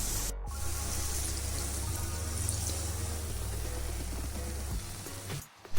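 Water poured steadily into a mashed smoked brinjal curry in a pan, a continuous close liquid rush lasting several seconds before stopping.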